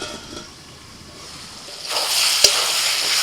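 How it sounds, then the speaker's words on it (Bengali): Chicken with chopped tomato and spices sizzles in a pot, a soft steady crackle that swells into louder hissing frying with a stir or scrape partway through, close by with no talk. "মশলার সাথে কষাতে কষাতে চিকেনটা সিদ্ধ হয়ে গেছে"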